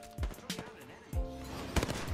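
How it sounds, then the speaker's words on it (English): Gunfire in the Apex Legends video game on the King's Canyon map: a few quick sharp shots in short bursts, fairly faint, with a voice speaking over it. "This guy's shooting at us."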